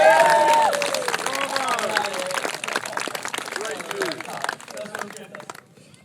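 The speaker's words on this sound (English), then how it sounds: "Round of applause." Applause and cheering from a theatre audience at the close of a staged performance of the Bakkhai, loud at first and thinning toward the end, with voices calling out over the clapping.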